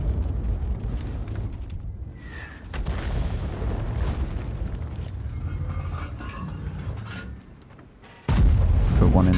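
An IS-7 tank in World of Tanks sits in a low rumbling battle din with distant booms, then its cannon fires a sudden loud blast near the end.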